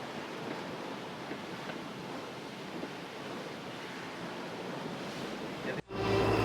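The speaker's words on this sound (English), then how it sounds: "moving up and down like a meter or so with these waves" Steady roar of ocean waves about a meter high and surf with wind buffeting the microphone aboard a boat, continuous and fairly loud, ending with a brief dropout and a low engine hum.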